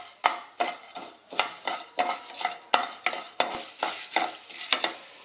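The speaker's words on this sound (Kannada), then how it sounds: "ಈಗ ಒಂದು ಸ್ವಲ್ಪ ಹುರಿದಾವ ರೀ ಕಡಲೆಬೇಳೆ ಉದ್ದಿನ ಬೇಳೆ ಎಣ್ಣೆಲಿ ಫ್ರೈ" Chana dal and urad dal fry in oil while a spoon or spatula stirs them, giving a steady sizzle with about a dozen scraping stir strokes at an even, regular rhythm, close up, with no talking.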